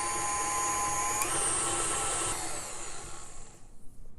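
Electric hand mixer whirring steadily as it creams butter and sugar for raspberry cheesecake cookie dough, loud and close, then winding down at the end.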